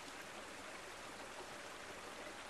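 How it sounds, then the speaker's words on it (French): A jungle waterfall pours in a constant, dense hiss of falling water, steady and unbroken, fairly soft and heard alone with no voices. "je ne pouvais pas ne pas venir dire au revoir à cette merveilleuse cascade"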